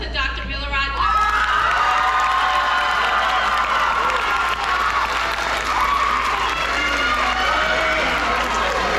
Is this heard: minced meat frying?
no